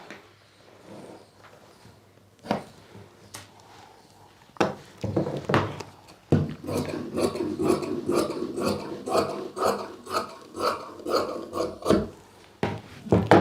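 Scissors cutting through salwar fabric to mark out a 7-inch waistband belt, giving repeated close crisp snips and rasping cuts that quicken into a steady rhythm over the second half.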